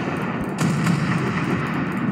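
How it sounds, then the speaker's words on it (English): Ship turret guns firing in a ship crash physics game, with a dense continuous rumble of booming shots and a couple of sharper reports, loud and close. "Nice, I'm shooting the guy's fuselage"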